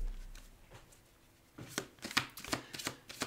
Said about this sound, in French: Alors, je vais tirer 3 cartes.